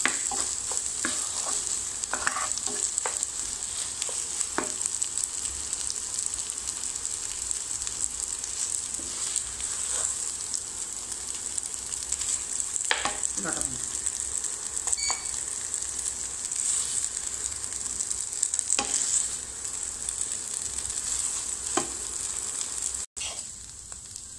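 Potatoes frying in oil for Bengali shahi aloo chop, a steady broadband sizzle running continuously with occasional stir clinks and scrapes, close and moderately loud, no talking.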